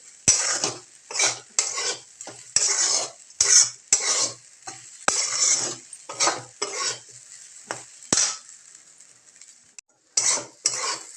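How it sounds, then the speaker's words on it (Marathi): Sago khichdi for a fasting recipe roasts in a pan, with a spoon scraping and stirring in rhythmic strokes over a light sizzle, the metal taps and scrapes repeating closely and loudly. "खिचडी आपली भाजत आहे थोडी"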